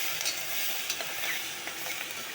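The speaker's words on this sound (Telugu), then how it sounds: "పసుపు వేసి వేయించాలి." Turmeric frying in a hot pan as it is stirred, giving a steady close sizzle with faint scraping ticks throughout and no talk.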